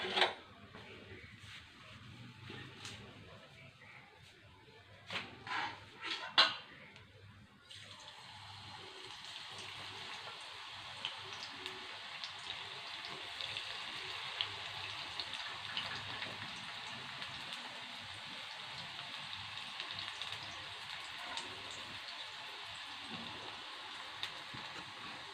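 Mullangi keerai (radish greens) pakoda batter dropped into hot oil, starting with a few scattered crackles and then settling into a steady, dense sizzle that runs on evenly at moderate loudness with no voices.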